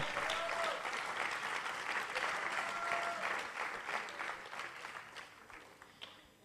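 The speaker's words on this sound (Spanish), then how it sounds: "dele un fuerte aplauso al Señor" A church congregation applauds, a full, dense burst of clapping that holds steady, then thins out and fades toward the end with a few scattered claps.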